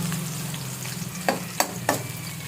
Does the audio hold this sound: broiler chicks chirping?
no